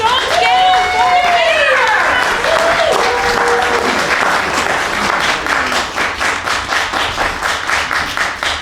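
An audience at a 90th birthday show applauds loudly throughout, dense clapping that turns into more distinct rhythmic claps toward the end, with a few whoops and voices over the start.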